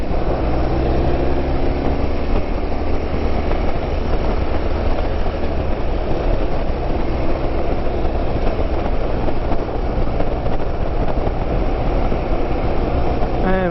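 Motorcycle ridden at around 80 km/h on a road, a continuous loud engine drone mixed with rushing wind, holding steady the whole time.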